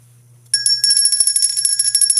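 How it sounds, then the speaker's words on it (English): Small bell rung celebratory at a poetry reading, a bright rapid series of metallic dings starting abruptly after a quiet room and continuing loud and close. "Thank you for the celebratory bell, Robert."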